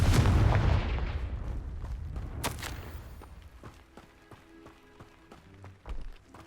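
Blasting spell explosions in the video game Hogwarts Legacy: a loud booming burst at the start, then a sharp crack midway and scattered thuds and rumbles that fade, with a game score playing underneath.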